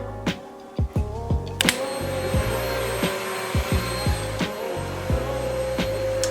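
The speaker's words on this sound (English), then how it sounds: "My mother decided to start vacuum cleaning." A household vacuum cleaner drones steadily in a room, its motor whine constant while sharp clicks and knocks repeat every half second or so over the running hum.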